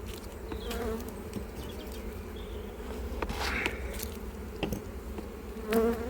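Honey bees drone steadily around an opened hive in an apiary, a dense continuous buzz with individual bees zipping close past at moments.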